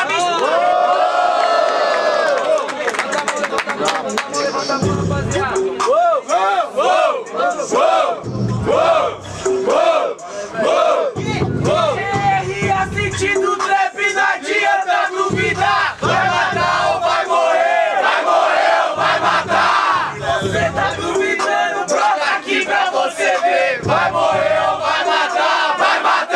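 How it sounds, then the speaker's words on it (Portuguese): At a Brazilian student rap battle, a crowd cheers and shouts in repeated loud bursts. Excited voices rise and fall between brief dips, with whoops and chanted calls throughout. "Barulhos pro Barreto aí, parabéns"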